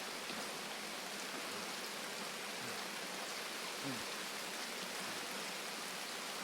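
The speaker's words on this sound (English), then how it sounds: "And now it's raining" Steady, hissing rainfall in a video game pours continuously, a dense wash of drops with no pauses and a few faint sliding tones underneath.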